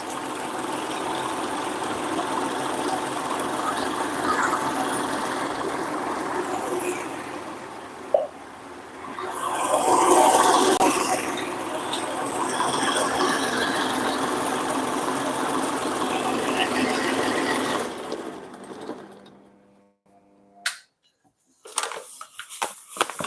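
Ice cream machine churning homemade vanilla ice cream, a steady loud motor hum with mechanical vibration that runs continuously for about twenty seconds, then cuts off into near silence with a few faint clicks.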